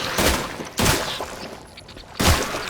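Video game gunfire from The Last Caretaker using flex ammo: three loud broadband bursts at the start, middle and end, separated by a lower rumbling ambience.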